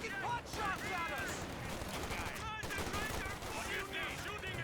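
Rifle squad gunfire from Company of Heroes 2, with a dense, steady stream of rapid shots and battle noise under continuous commentary.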